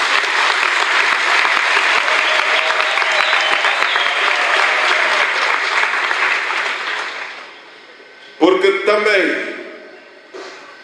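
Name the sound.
audience applause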